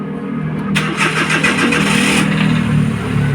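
A used car's engine cranks and fires up close by, the starter whir giving way to a loud steady mid-pitched idle with a slight rev.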